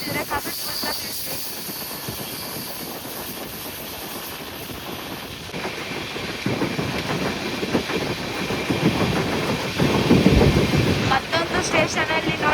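A passenger train races at high speed along the main line, skipping through a station, with a continuous rumbling roar and rapid wheel clatter that grows louder and rougher toward the end.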